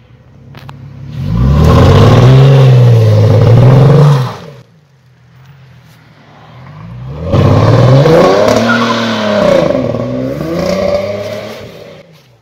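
A Ford Mustang 4.0 V6 running on ethanol revs hard and accelerates loudly twice, each surge climbing and falling in pitch, with a short lull of lower engine noise between the bursts and no talk.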